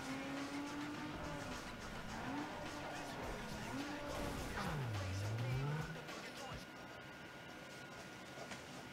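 A car drifting in Need for Speed Underground 2, with a rising and falling engine roar and a long sliding tire squeal that bends downward midway, continuous and fairly loud.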